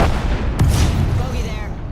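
A frag grenade goes off in a shooter video game as one deep, loud, close boom with a rumbling tail, over a dense, constant background of game noise.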